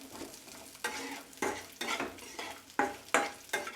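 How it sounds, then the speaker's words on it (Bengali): Onions stirred and fried in a pan until golden for a matar paneer curry: steady sizzling under loud, rhythmic spoon scrapes roughly every half second, close up with no voices. "এটা আমি 2 থেকে 3 মিনিট ভালোভাবে নেড়ে ছেড়ে একটা গোল্ডেন কালার নিয়ে আসবো পেঁয়াজটার মধ্যে"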